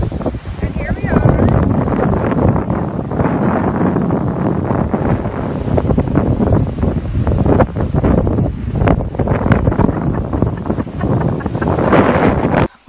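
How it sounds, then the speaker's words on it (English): Strong wind buffets the microphone at a seaside campsite by the ocean, a loud, constant roar with gusty rustling throughout, while a person talks over it. "Whoa, windy."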